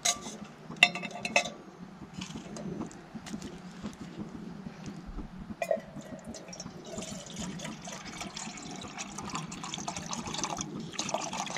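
Liquid is poured aggressively into a pot at a campfire, a steady close splashing and trickling that runs throughout, with occasional metallic knocks.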